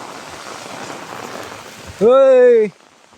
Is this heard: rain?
yes